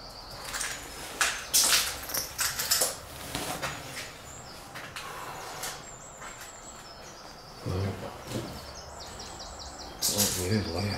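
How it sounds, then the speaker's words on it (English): Birds chirping and tweeting outside a derelict old cottage on a spring morning, thin high calls in short bursts, fairly faint against rustling and handling noises, no clear talk. "I'm sure you can hear the birds outside."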